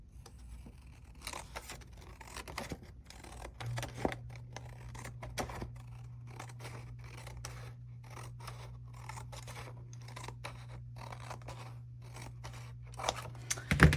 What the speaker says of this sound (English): I'll cut off this edge first.